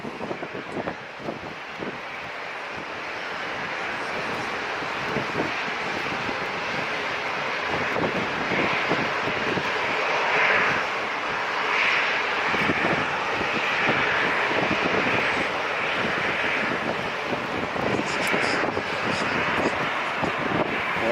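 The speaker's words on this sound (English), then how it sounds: "Just two 737s left for takeoff." Boeing 737 jet airliners take off at San Diego International Airport, a long, distant roar of jet engines swelling and lingering under gusty wind noise on the microphone.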